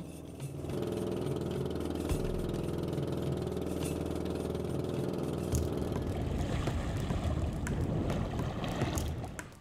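A motorboat engine runs steadily through a sea crossing, a continuous low drone with water washing against the hull, heard close and loud.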